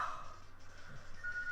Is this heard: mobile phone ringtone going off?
yes